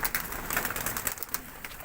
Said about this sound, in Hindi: ये कबूतर हैं इनके।